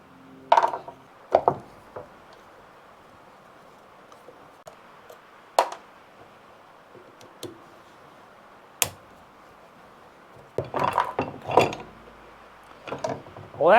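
Tools work at a spool stuck on a motor, with scattered clanks, taps and scraping clatters in irregular bursts and long quiet gaps between them, close by.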